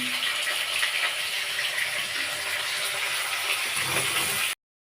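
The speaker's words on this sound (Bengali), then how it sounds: "আমি এক এক করে সব কয়টা পাতা ভালো করে পরিষ্কার করে ধুয়ে নেবো" Mustard greens brought from the hills being washed leaf by leaf under running water, a constant close rush of water that stops abruptly near the end.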